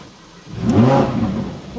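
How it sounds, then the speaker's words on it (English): A Lamborghini Huracan Performante engine gives one short, close rev in sport mode, rising quickly to a loud roar and easing back down within about a second. "A baby rev for the car"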